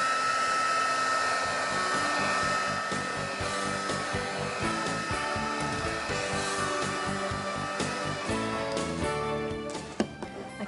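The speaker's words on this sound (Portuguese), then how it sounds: "Nós usamos o soprador" A hot-air blower drying paint runs continuously with a loud, steady whirring hiss, unbroken for the whole stretch.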